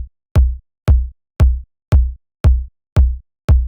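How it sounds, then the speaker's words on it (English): An EQ'd kick drum from a dance track thumps alone in a steady, evenly spaced pattern, seven loud, deep, punchy hits with short decays and silence between them. "We have the kick drum"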